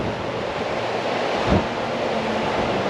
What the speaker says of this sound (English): The wind takes you in.